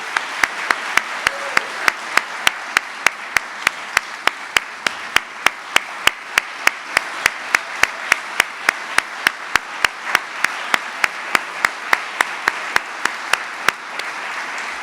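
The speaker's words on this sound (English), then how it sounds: "let's give all of our honorees another round of applause" An awards ceremony audience gives honorees a sustained round of applause, dense steady clapping throughout with a few sharper individual claps punctuating it at a regular pace, moderately loud and without talk.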